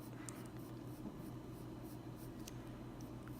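Purple colored pencil hatching on paper in a coloring book, laying down one line after another: soft, quiet, repeated scratchy strokes in a steady rhythm, close up with no talk.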